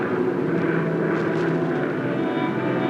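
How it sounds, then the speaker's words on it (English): A low-flying plane drones steadily and loudly overhead while driving a herd of onagers across rough country, its engine noise continuous and unbroken throughout. "bring the plane in low, approaching the herd from the rough country"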